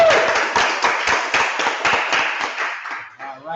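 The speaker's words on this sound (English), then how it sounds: "let's give Patty a round of applause" Audience claps for a student presenter at a high school seniors' final presentation event, a brief burst of fairly sparse, distinct hand claps that fades out after about three seconds, with a voice starting to speak at the end.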